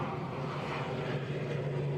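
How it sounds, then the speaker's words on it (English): Iberia airliner departing Edinburgh airport, a broad steady jet-engine roar heard from a distance, constant and moderately loud with no talk over it. "Oh, the Iberia is heading out."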